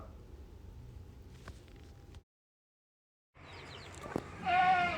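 Bleating from a large, long-bodied cross-breed goat at a livestock sale, heard as a clear call near the end over background farm noise, with a short silent gap partway through.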